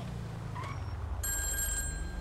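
An electronic phone ring in GTA 5 starts partway through, a steady high warbling tone over low rumbling engine noise and game ambience.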